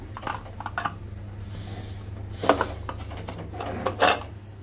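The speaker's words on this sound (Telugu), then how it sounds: "ఫైనలీ ఇప్పుడైతే మనం మూత అయితే పెట్టేద్దాం." A lid is set onto a cooking pot of mutton lung fry, giving a couple of short metallic clanks close by, the louder knock near the end, over a steady low kitchen hum.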